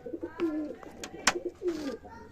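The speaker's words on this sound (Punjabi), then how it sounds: "ਇੱਧਰ ਕਬੂਤਰ ਛੱਡਤੇ ਕੱਲੇ ਤੇ ਇੱਧਰ ਕਬੂਤਰੀਆਂ ਛੱਡਤੀਆਂ" Pigeons let out of their coop coo nearby in soft, repeated throaty rolls, with a few short sharp calls and rustling between them in a quiet yard.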